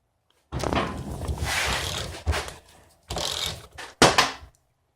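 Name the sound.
7/8 wrench loosening coilover shock parts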